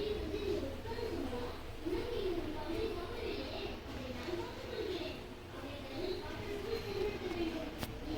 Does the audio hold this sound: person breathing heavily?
no